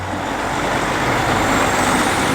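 A truck in Toronto during the Gumball 3000 rally gives a steady, loud engine rumble with broadband road noise that holds level throughout, close by, with no talking.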